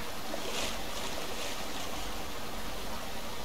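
Steady rushing waterfall close by, a dense unbroken roar of falling water with no talk over it.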